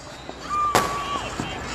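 Fireworks go off during an Independence Day celebration in Old Delhi, one sharp loud bang with a whistling tone and a few softer pops around it, over a murmur of street noise.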